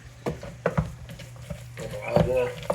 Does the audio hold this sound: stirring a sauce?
yes